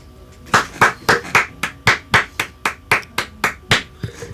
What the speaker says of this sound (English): I gotta clap for this.